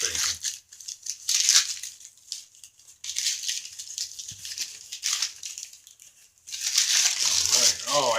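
Cardboard wrapping on a Secret Santa gift package being torn and crinkled open by hand, with papery rustles and rips in bursts, close and fairly loud, while someone talks between them.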